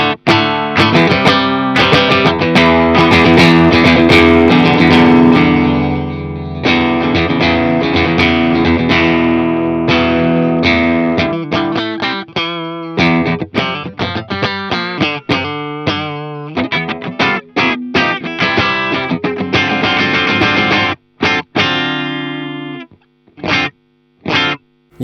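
Valiant Mercury electric guitar on its single-coil pickup with raised gain plays loud, driven chords and riffs, first sustained strums, then choppy staccato hits and short muted stabs with brief gaps.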